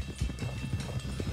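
Horse hooves clip-clop in Red Dead Redemption 2, a quick uneven run of heavy thuds close by on hard ground, with a faint background hiss.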